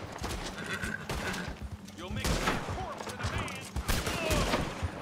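Rapid gunfire crackles in repeated bursts during a Red Dead Redemption 2 Online shootout. A horse whinnies and hooves clop amid the shots, with someone talking over the noise.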